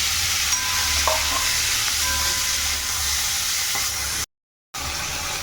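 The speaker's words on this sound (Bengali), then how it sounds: "এই যে চিংড়ি মাছগুলো এই তেলের মধ্যে দিয়ে একটু ভেজে নেব" Constant crackling sizzle of shrimp frying in oil, close and steady, with a faint low rumble beneath and a brief silent gap near the end.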